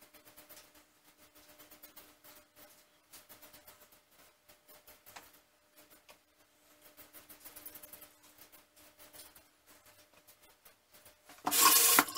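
Crown King shavette straight razor scraping across a stretched cheek against the grain in short, light strokes, a faint close rasping repeated many times, ending with a louder rustle.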